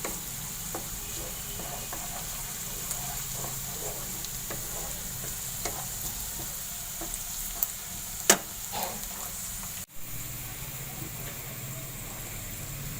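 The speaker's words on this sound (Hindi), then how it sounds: "ये प्याज हमारा ब्राउन होना शुरू हो गया है" Onions sizzle softly in a pot as they brown for matar pulao, a faint steady fry with scattered light stirring clicks and one sharp knock near the end.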